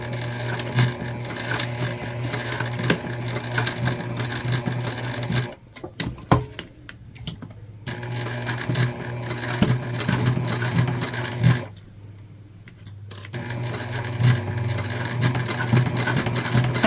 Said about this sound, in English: we're just going to sew down both sides